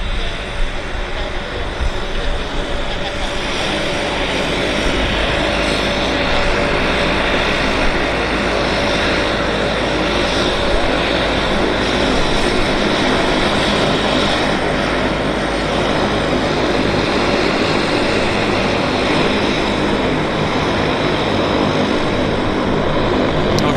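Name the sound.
de Havilland Canada propeller aircraft engines at airport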